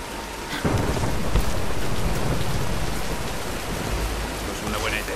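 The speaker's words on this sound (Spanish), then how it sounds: "¡Espera que pase la tormenta!" Thunderstorm in Tomb Raider: heavy, constant rain pours loudly while a deep thunder rumble swells in early and rolls on beneath the downpour.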